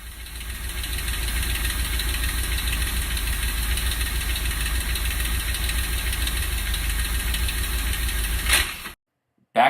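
A rough-running 1965 Ford Thunderbird engine idles with a steady loud knocking drone for several seconds, then dies abruptly, leaving near silence before a brief final thump.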